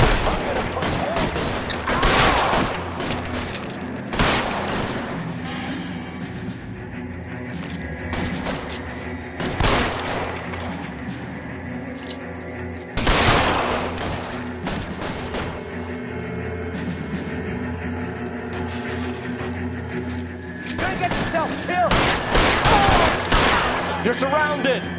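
Shootout gunfire in the video game L.A. Noire: dense, overlapping volleys of shots and heavy booms that swell and fade in repeated bursts over a steady game backdrop.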